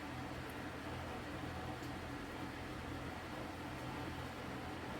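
A noisy electric fan runs steadily indoors, a constant broadband whir with a low hum and no talk.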